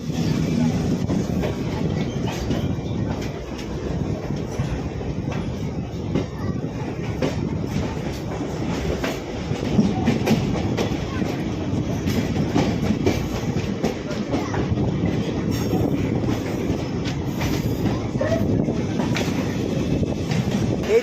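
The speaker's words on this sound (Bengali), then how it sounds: "এই মুহূর্তে আমাদের ট্রেন ঢুকছে পণ্ডিত দীনদয়াল উপাধ্যায় জাংশন" A passenger train rolls into Pandit Deen Dayal Upadhyaya Junction, heard from on board, with a steady, loud rumble and rhythmic clickety-clack of the wheels over rail joints for the whole stretch, and a voice talking faintly beneath it.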